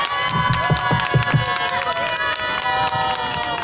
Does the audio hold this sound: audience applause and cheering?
yes